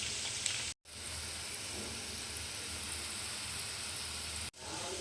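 Sliced onions deep-frying in hot oil for Hyderabadi biryani, a steady, even sizzle like light rain that cuts out for two brief gaps, with no voices.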